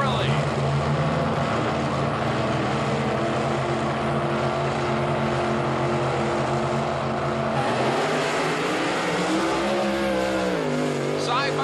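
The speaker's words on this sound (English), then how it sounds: "Both machines now warmed and primed as they inch their way to the starting line beams." Drag racing cars at the 1984 World Finals in Pomona revving loudly at the starting line, a sustained engine roar with rising pitch near the end, under continuous commentator talk.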